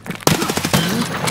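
A single loud, sharp KS-23 shotgun blast in the shooter game Escape from Tarkov, a close booming report followed by a rolling echoing tail.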